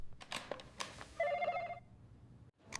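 A telephone bell rings once in a quiet office setting, a short trilling burst standing alone against a soft background.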